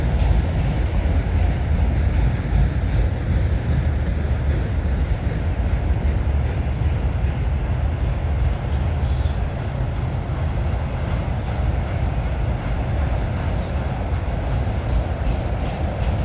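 A CN Rail train led by locomotive 3012 passes by, a steady, heavy low rumble of rolling wheels and engine that holds loud and constant throughout without a break.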